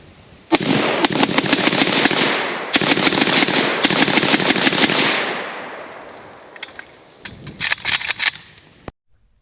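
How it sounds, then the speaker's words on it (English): Legion-USA Molot RPK semi-automatic rifle firing at a range, a long run of rapid, loud shots in quick bursts with brief pauses, then a final scattered string of shots before stopping. "Not like we're gonna burn out an RPK light machine gun and semi-auto, right?"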